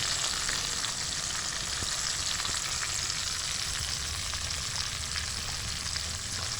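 Steady, loud sizzle of spices hitting hot oil with fried onion, ginger and garlic while cooking ghugni, a continuous crackling hiss close to the pan with faint stirring, no voices.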